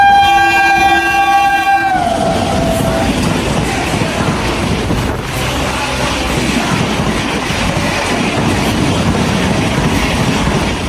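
A weekly superfast express train blasts a long horn note, then roars past at speed with loud continuous rushing and rattling wheels close by.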